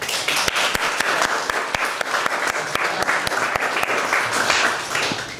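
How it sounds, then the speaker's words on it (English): An audience applauds at a lecture on the mathematics of juggling, with dense, steady clapping from a crowd that carries on for several seconds at an even level. "So, I think that deserves a round of applause."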